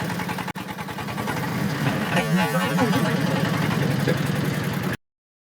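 A diesel mini loader with a 300 kg lifting capacity, as used on poultry and cattle farms, runs steadily nearby with a constant mid-pitched engine drone that cuts off abruptly near the end.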